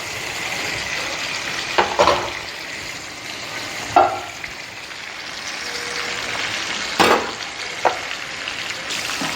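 Generous butter sizzling steadily in a pan for salmon butter masala, a constant close frying hiss broken by a few sharp utensil clinks and stirring scrapes.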